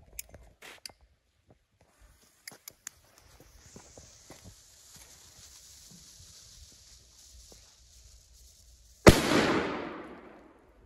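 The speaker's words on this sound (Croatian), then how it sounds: "Magnum dosta bolje puca" A Magnum firecracker blasts once with a single sharp, loud bang near the end, followed by a brief crackling decay, after a long stretch of quiet outdoor rustling and faint footsteps.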